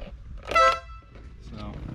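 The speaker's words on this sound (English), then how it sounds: "And it's got like air horns." A short, loud blast of a Porsche Boxster 986's air horns, tonal and brassy, sounding once amid background noise and faint voices.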